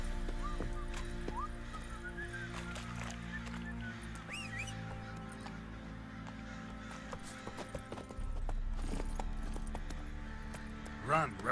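Hoofbeats of Geralt's horse Roach galloping in The Witcher 3, a steady clip-clop under game music and ambience, with a brief whinny near the end and a voice speaking at times.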